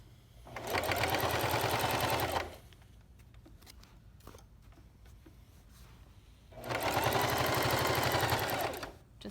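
A sewing machine stitches garment lining in two loud, rapid bursts of mechanical chatter, each lasting about two seconds, with quiet handling of fabric in between.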